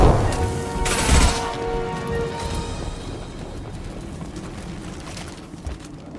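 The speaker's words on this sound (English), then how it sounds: "Deploying incineration tank" An incineration tank is deployed in Mass Effect 2, erupting with a loud whooshing blast that crackles briefly and then settles into a fading roar.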